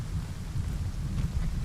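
Rain in the video game Arma, a dense, steady hiss with low rumbling patter, continuous and moderately loud with no voices.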